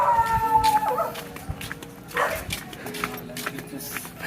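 A dog barks and whines in a few short bursts, fairly close, with a person speaking briefly over it.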